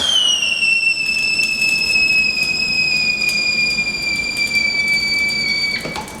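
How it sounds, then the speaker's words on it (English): A high, steady whistle from a tea kettle as liquid nitrogen boils off inside it, with several pure tones sliding slightly lower over several seconds before cutting off near the end, loud and clear with no talk. "Liquid nitrogen changes pretty much instantly into a gas, causing it to cause the same whistle that you would hear if water were boiling."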